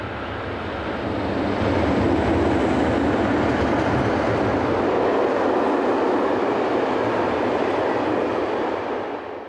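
Two Swiss Class 620 Re6/6 locomotives haul a short freight train bound for Spiez on the Gotthard route, a loud sustained rumble and rolling roar of wheels and wagons that builds, holds steady and eases slightly at the end.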